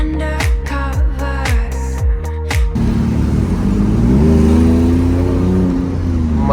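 A car with a straight pipe exhaust blips its engine in a rapid series of sharp revs, then holds a loud, sustained rising roar close by.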